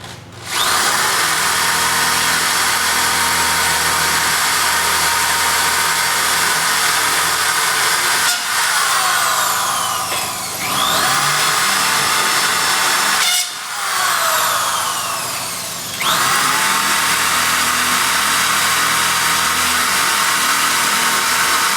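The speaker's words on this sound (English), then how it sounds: "And now we're going to go ahead and drill out the remaining holes." A power drill bores out the remaining holes in a loud, sustained high-pitched whine, with two short pauses where the motor winds down and spins back up before drilling on.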